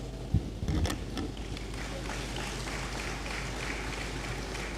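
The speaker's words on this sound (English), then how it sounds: "I hope you are happy to be here and you will applaud for yourself" Students applauding in the Great Hall at a university matriculation ceremony, a few sharp claps rising into steady, faint, distant applause that continues evenly.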